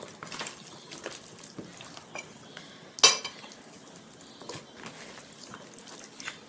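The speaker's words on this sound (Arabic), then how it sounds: "اقلب في التتبيلة" A fish marinade is stirred and turned by hand while fish pieces are laid in a tray, with soft wet squelches and light clinks that are mostly quiet, plus one sharp clatter midway.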